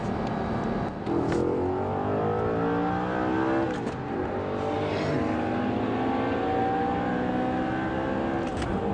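A Bugatti Veyron accelerates hard on a track, its engine pitch climbing in repeated sweeping gear runs with short breaks at the shifts, loud and close.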